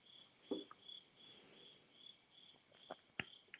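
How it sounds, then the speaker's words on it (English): Crickets chirp steadily in the background, a faint, continuous high trill with a few soft taps and clicks over it, and no voices. "Oh, it's the crickets."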